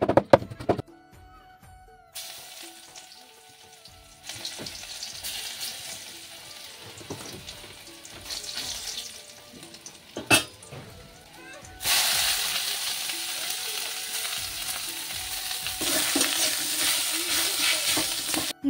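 Radish greens fry with crushed garlic in a pan, a soft intermittent sizzle that swells into a louder, steadier hiss toward the end, with some clatter of stirring between quieter stretches.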